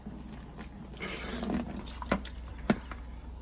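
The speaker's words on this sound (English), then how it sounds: "That was the fastest I've gotten water out of this tank." Water drains and trickles as a siphon empties a reef aquarium tank, a steady watery wash with a few sharp drips and gurgles near the end, recorded up close in a quiet room.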